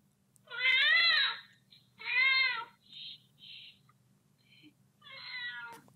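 Several kittens meowing in short, loud, high cries, four or five calls in a row with brief gaps between them, close up over a faint low hum.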